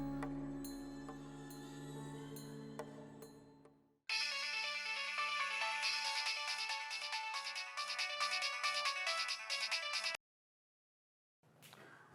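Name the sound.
phone ringtone while placing a call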